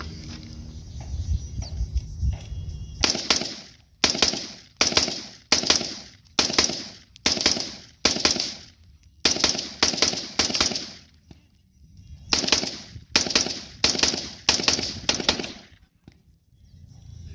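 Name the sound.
firearm being shot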